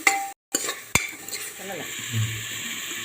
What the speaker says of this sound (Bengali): টমেটোটাকেও আমি ভেজে নেবো একটু।